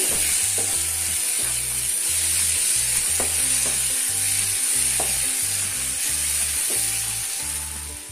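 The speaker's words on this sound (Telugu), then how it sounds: "చూడండి ఎలా వేగుతుందో" Bitter gourd fried with onion masala in a pan gives a steady, close sizzle throughout, with occasional faint stirring scrapes and no talk.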